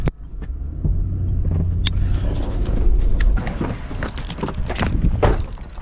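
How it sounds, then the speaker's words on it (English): Dump truck loaded with gravel arriving outdoors, a loud heavy engine rumble with crunching and clattering on the ground, close and continuous. "Oh my God, the dump truck is here."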